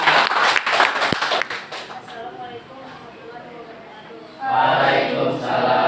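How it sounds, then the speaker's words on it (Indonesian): A classroom group claps for a presenting team, short scattered clapping that mixes with voices, dies down, then swells again near the end as people talk. "Tepuk tangan buat kelompok 2."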